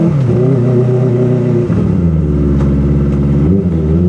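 Kawasaki ZX-25R Limited Edition motorcycle engine revving on a test ride, a loud, close, buzzing drone that climbs in pitch, dips briefly, then rises again, with no talk.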